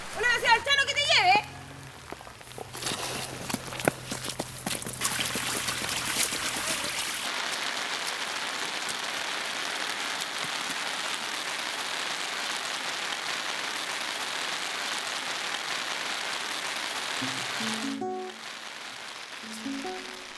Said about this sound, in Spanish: ¿No ves que está lloviendo?